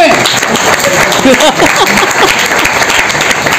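A seated crowd at a network marketing seminar breaks into loud, dense applause at a speaker's request, continuous clapping throughout with a few voices and shouts rising over it.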